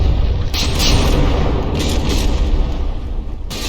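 A shell barrage exploding against a battleship in From the Depths, with loud rolling booms and bursts that blend into a dense, continuous roar of impacts across a few seconds.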